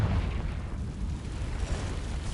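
Confringo blasting spell going off in the video game Hogwarts Legacy, a deep rumbling explosion with a heavy low-end boom that rolls and crackles for a couple of seconds, loud and close.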